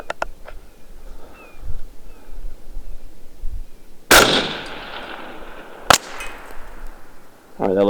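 Two sharp 5.56 rifle shots crack out at a long-range shooting session, the first followed by a long decaying echo across open ground, the second a short, lighter report, both loud against a quiet outdoor background.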